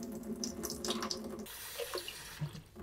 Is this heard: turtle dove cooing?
no